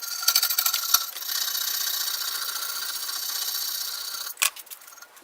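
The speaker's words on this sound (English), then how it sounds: "I'm going to clean it up with a hand file." A hand file scrapes along the ground edge of a steel throwing knife in a workshop, rapid rasping strokes at first, then a sustained close grinding rasp ending in a short sharp scrape.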